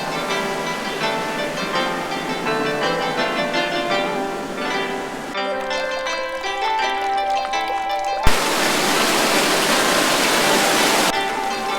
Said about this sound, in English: One of my favorite things is just listening to water coming down a waterfall.